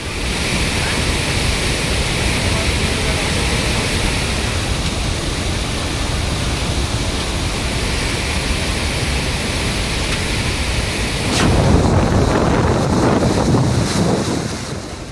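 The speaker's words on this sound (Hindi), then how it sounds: "नदियों का पानी किस कदर दहाड़ रहा है, इसके शोर से आप समझ सकते हैं।" A flooded river in Kullu roars in a loud, continuous wash of turbulent water that grows heavier and rougher toward the end, with no voices.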